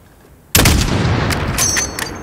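A single sharp rifle shot from Call of Duty Modern Warfare at a long-range target, a loud sudden crack with a booming tail that rolls on for over a second, with no talk over it.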